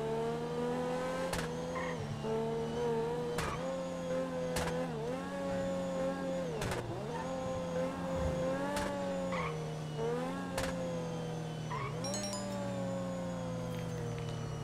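A car in a video game engine drones steadily while it is driven during a chase, with harmonic revs dipping and rising through gear changes and repeated sharp impacts or skids. The sound is continuous, loud and close, with no talk.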